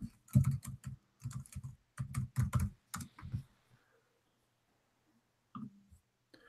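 Typing on a computer keyboard in bursts of quick, close, clicking keystrokes, then a long pause broken by a few final taps, with no talking.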